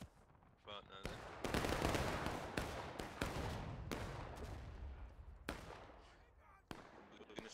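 Gunfire in the American Civil War game War of Rights: dense, crackling volleys of rifle shots, some near and loud and others distant, go on steadily with a few short pauses, and voices can be heard faintly underneath.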